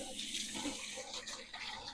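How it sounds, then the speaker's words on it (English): Hands being washed under a running kitchen tap, a soft continuous splash of water with small fluctuations as the flow is broken, fairly quiet and without talking. "Let me go wash my hands off."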